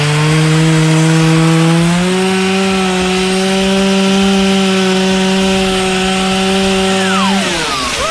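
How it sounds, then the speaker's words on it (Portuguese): Chainsaw cutting into wood on a farm, a loud steady whining buzz that drops slightly under load, holds, then winds down abruptly near the end. "Vai trazer uma motosserra."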